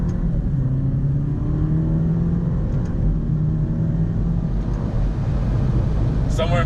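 Alfa Romeo car on a test drive, its engine rumbling steadily and building under acceleration, heard from inside the cabin as a continuous low drone.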